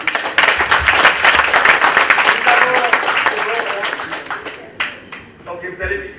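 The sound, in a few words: audience applause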